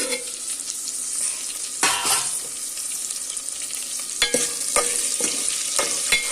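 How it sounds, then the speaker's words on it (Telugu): Onions frying in a pan for Telugu pappu charu, a steady sizzle running throughout with several sharp scraping clatters from stirring near the start and end. "ఆనియన్స్ వేసుకున్నానండి. ఆనియన్స్ అయితే బాగా మగ్గాలి."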